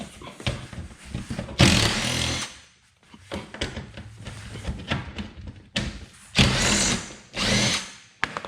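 A power tool works a bolt loose during Mazda 3 manual transmission removal, firing in short, loud whirring bursts separated by quieter handling noises and clinks.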